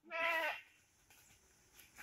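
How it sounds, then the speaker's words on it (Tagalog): A goat on a farm gives one loud, close bleat at the start, followed by quieter background sounds and a faint second call near the end. "Meron akong kambing"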